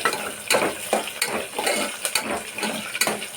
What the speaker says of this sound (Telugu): తర్వాత ఆనియన్, కరివేపాకు వేసుకోవాలి. వేసుకొని బాగా మిక్స్ చేసుకోవాలి.